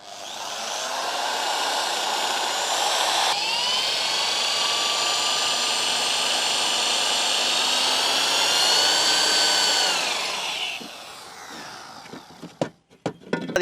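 A handheld drilling machine bores holes in a can, a loud sustained whine that holds for about ten seconds, shifts pitch partway through, then winds down into a few sharp knocks and clicks.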